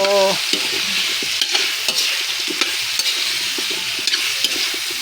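Chicken feet stirred in a frying pan, a loud steady sizzle with repeated scraping strokes of the utensil against the pan, close up and with no talking.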